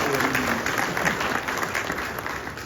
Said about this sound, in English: Shall we please give His Majesty a round of applause